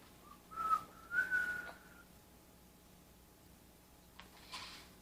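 Two short whistled notes, the second a slightly rising held tone, followed by quiet background and a faint soft rustle near the end.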